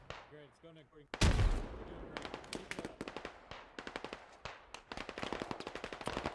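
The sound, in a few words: machine gun firing in the video game Squad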